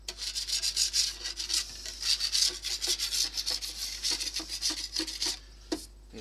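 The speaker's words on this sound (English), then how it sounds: "inside it has to do with the cloth and some remover. Let it rub against the paint." A cloth soaked in paint remover rubbed back and forth over a painted bakelite radio case, a continuous close scrubbing rasp in uneven strokes with short pauses.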